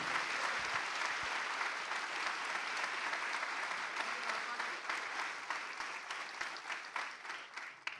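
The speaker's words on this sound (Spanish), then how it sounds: "Le damos un aplauso a Dios por nuestra patria." Steady applause from a church congregation, a dense wash of many hands clapping at moderate distance that holds for several seconds before easing slightly, with no talk over it.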